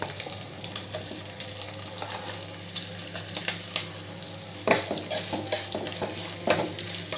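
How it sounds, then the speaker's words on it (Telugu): Onions and potatoes fry in a pan, a steady close sizzle broken by scraping stirs and clinks of a utensil, with no talk over it. "ఆనియన్స్ కొంచెం వేగాక పొటాటోస్ వేసుకుందాం."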